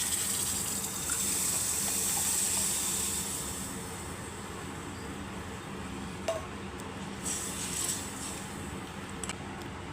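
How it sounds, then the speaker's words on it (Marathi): Mango water being poured into a pan of dough for a village-style aamras, a gushing, hissing stream near at hand that eases to a quieter trickle, with faint clinks and no voices. "तर बघा थोडंसं आपण पाणी टाकून घेऊया,"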